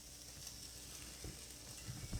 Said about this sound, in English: I'm going to get my fish cake in. Nice sizzle.